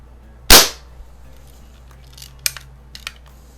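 One sharp, loud crack from a CO2-powered BB pistol, a Daisy model 1200 or Crosman 1600, followed by a few faint small ticks and taps, with no talk.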